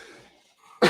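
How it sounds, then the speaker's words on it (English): A single sharp cough lands loud and close at the end, after a quiet stretch of faint background murmur. "I move away from the mic when I cough"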